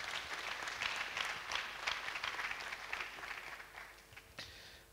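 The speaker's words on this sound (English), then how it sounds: "I think that one deserves an applause." An audience claps at a KNUST Technology Week gathering, with dense, sustained applause that gradually thins and fades toward the end.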